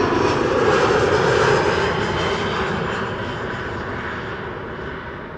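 A fixed-wing airliner roars in close and loud on arrival at Amsterdam Schiphol's Kaagbaan runway, a steady broadband engine rush that slowly fades without any voices.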